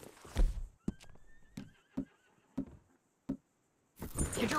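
A horse in a western open-world video game lets out a loud whinny up front, followed by a handful of sharp, spaced hoof clops and another snorting whinny at the end.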